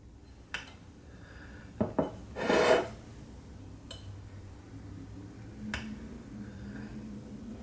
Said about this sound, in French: À présent, nous allons couper notre gâteau pour voir comment se présente cette petite merveille.